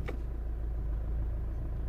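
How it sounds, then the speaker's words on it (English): A Vauxhall Astra J with an automatic gearbox drives along, its steady low engine and road rumble continuous and fairly close throughout, with no talking. "I'm gonna go for a drive"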